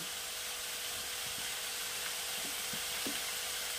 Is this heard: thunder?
no